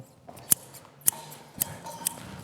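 Scissors snip open and shut four times at a ribbon cutting for a grand opening and dedication, each a sharp, close metallic click spaced evenly apart over a quiet room.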